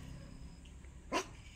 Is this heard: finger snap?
no